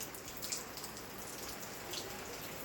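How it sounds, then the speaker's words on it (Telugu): Rain falls steadily outside a home, a soft continuous patter of drops with a couple of slightly louder splashes, fairly quiet and with no voices. "బయట వర్షం ఎలా పడుతుందో చూపెడతాం"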